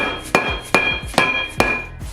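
Five sharp, evenly spaced hammer whacks drive a hot part onto a 2011-2014 Ford Mustang Moser 8.8 axle, each strike ringing briefly with a metallic tone in a quiet shop.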